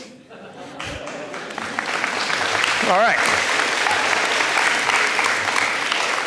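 An audience applauds at an 8th grade promotion ceremony for the Hornets. The applause swells and holds steadily loud and close, with a speaker's voice talking over the start.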